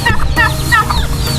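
A backyard farm turkey gobbles in a rapid, warbling burst, loud and close, with no talk over it.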